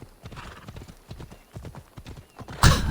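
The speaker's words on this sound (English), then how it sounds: "you can just sit back, let go of the controller, and the horse will just take you all the way there" Horse hooves clip-clop at a steady trotting rhythm during a ride in Assassin's Creed Odyssey, close and clear, ending in a loud whinny.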